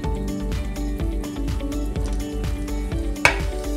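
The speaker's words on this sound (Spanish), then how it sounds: "Ponemos un poco de mantequilla en la cacerola y vamos a derretirla" Butter melting in a saucepan gives a soft, steady sizzle, with repeated utensil scrapes and knocks against the pan and one sharper clink near the end.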